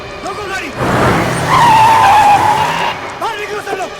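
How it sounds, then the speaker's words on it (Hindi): A car skids hard to a stop on a road, tires squealing in one long screech that rises to a loud peak and then cuts off, with raised voices shouting before and after. "रोको गाड़ी!"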